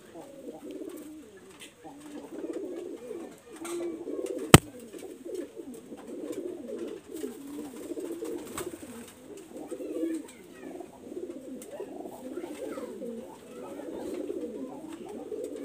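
Baby pigeons of an imported bred line cooing softly in repeated low, throaty phrases, with one sharp click partway through.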